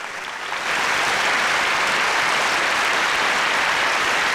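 Loud applause at the Green Cinema Awards 2021 show greets a producer-of-the-year winner, rising over the first half second into a dense, steady roar of many clapping hands that stays strong throughout.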